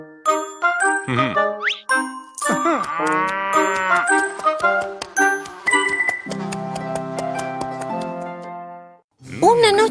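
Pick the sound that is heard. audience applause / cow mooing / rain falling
cow mooing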